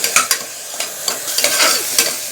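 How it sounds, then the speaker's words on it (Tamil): Onions for vada curry are stirred and sautéed in a hot pan, giving a close, steady sizzle broken by repeated scraping spatula strokes at an irregular rhythm. "இப்போ நமக்கு வெங்காயம் வதங்கிடுச்சு"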